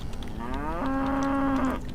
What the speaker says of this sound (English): If you hear mooing in the back